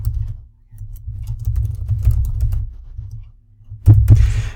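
Typing on a computer keyboard, a run of soft close key taps in quick succession with a short pause, then a couple of louder clacks near the end, alone without talk.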